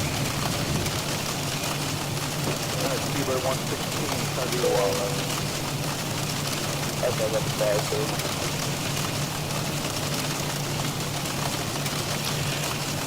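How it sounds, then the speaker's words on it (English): Simulated heavy rain in the X-Plane 12 flight simulator, in a Florida airliner cockpit: a dense, continuous hiss of rain over a low engine hum, with a voice speaking briefly underneath. "That rain."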